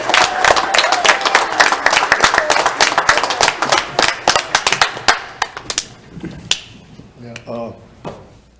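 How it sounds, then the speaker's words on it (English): Applause from the audience at an Aiken city council meeting, a dense burst of clapping for about six seconds that thins to scattered claps and fades, with faint voices underneath. "Let's give them a round of applause."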